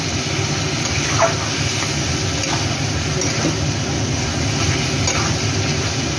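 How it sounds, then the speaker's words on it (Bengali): A spice paste of cashew, sesame, poppy seeds, peanut, ginger and green chilli with added water fries in a pan, producing a constant close bubbling sizzle with faint stirring scrapes, unbroken and even. "এবার এই মশলাটা ভাজা ভাজা হবে"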